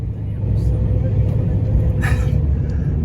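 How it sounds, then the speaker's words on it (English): A low-mileage LBZ Duramax diesel truck cruising on the road, a steady low engine rumble with road noise heard from inside the cab, constant and fairly loud throughout. "So we are cruising, hopefully not going to be blinded, but going for the actual first drive"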